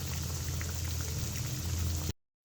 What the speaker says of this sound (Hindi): एक साइड से जब ये अच्छे से फ्राई हो जाएंगे तो हम इसकी साइड चेंज कर देंगे